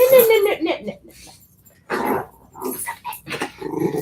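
Small puppy growling in play, short rough grumbles at close range, mixed with someone talking and other indoor voices and movement.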